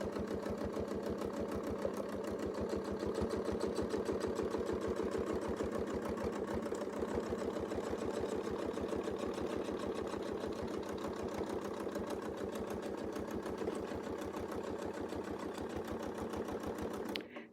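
A sewing machine stitches a quilt guided by a Westalee circle ruler, a continuous rapid rhythmic chatter of the needle that holds steady and close without pause.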